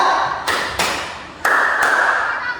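A group of people clap in unison on a teacher's cue, giving sharp, close, loud claps with pauses between them; four distinct claps are evident, and no one speaks.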